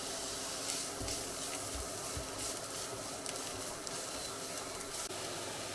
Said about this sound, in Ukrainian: цибулю підсмажуємо до рум'яності